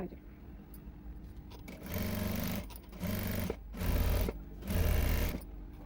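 A sewing machine stitches the sleeve of a princess-cut blouse in four bursts of rapid mechanical whirring that grow a little longer each time. Short pauses separate the bursts, and the sound is close and clear with no voice over it.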